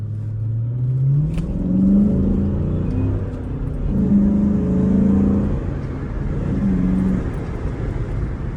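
A Chrysler 300C accelerating hard through traffic, its engine note rising and swelling in repeated surges, a loud, close drone with rumbling low end and no talking.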